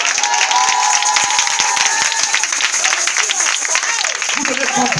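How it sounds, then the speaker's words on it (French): A church congregation applauds and cheers during a worship service, with steady dense clapping and voices shouting throughout, loud and close, with no pause. "Acclamez ce matin."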